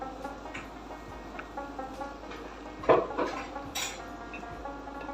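Semolina halwa (suji ka halwa) stirred in a pan with a spoon, giving soft scraping and occasional clinks of utensil against metal, with one louder knock near the middle, close and fairly quiet.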